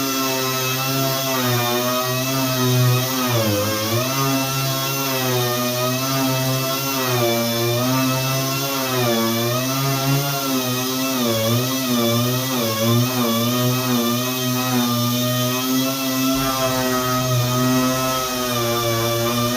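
A power sander works cabinet doors with 120 grit sandpaper, giving a loud, steady motor whine with wavering pitch that runs unbroken for the whole stretch, with no talking.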